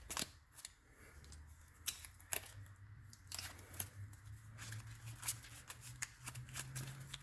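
Yu-Gi-Oh cards from a Dark Magician deck are shuffled hard by hand in a quiet room, giving a run of quick riffling, snapping bursts and soft shuffling rustles that repeat unevenly, close and fairly faint, with no talking.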